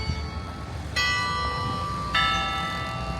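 A church bell in a Goa-made tower in Malacca strikes twice in this stretch, each stroke a loud, ringing clang with a long shimmering decay over steady outdoor background noise and no voices.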